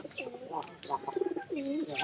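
Pigeons, including young birds, coo close by in soft, repeated rolling calls with a few brief chirps mixed in.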